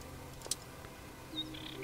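Brief high bird chirps from the hidden-object game European Mystery: Scent of Desire, faint and sparse: a single chirp early, then two quick ones near the end over a quiet ambient bed.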